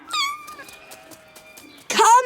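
A cat meowing in a children's English lesson, with a rising, drawn-out mew at the start and a louder, brighter meow near the end, separated by quieter tonal sounds.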